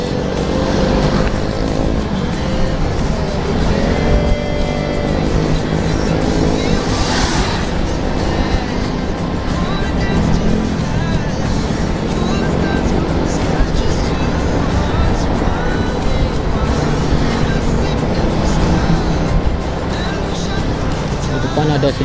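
Busy road traffic with a bus passing, heard from a motorcycle touring near Ciwidey between Jakarta and Bandung in the rain. A loud, continuous rush of engines and wet road noise holds steady throughout, with a brief sharper swell midway.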